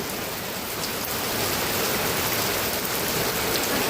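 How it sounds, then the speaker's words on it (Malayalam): Steady, dense downpour of heavy rain with wind over open paddy fields in Kerala, a loud continuous hiss without pause and no voices. "കാറ്റും മഴയും ഡും ഡും ഡും."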